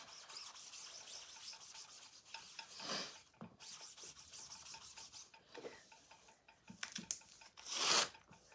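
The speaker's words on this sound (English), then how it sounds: "get our board eraser, wring it out, it's wet, clean it up." A wet board eraser rubs and wipes across a work surface, giving soft rasping strokes in an uneven rhythm, close and fairly quiet, with a louder scrubbing burst near the end.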